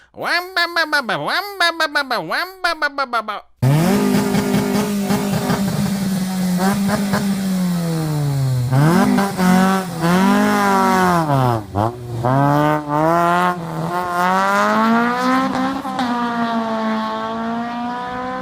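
Loud exhaust revving in repeated sharp bursts, then a long raspy engine roar swooping up and down in pitch, close and harsh.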